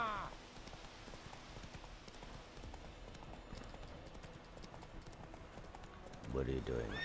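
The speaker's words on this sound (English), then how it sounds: "This horse runs on the road" Horse hooves clip-clop steadily along a road in The Witcher 3, a continuous trotting patter at moderate distance, with a voice briefly speaking near the end.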